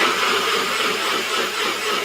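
A blender whirs loudly and steadily as it purées dates and sunflower seeds into an oil-free blueberry vinaigrette, a close, continuous high motor whine with no talking.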